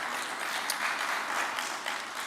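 Audience clapping at an African local content award ceremony, a steady wash of applause from a crowd heard at moderate distance, continuous for the whole short stretch.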